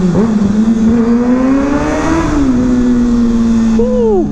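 A Kawasaki ZX6R with a Graves exhaust revs loudly up close, its pitch climbing and dropping in sharp, screaming sweeps over about four seconds.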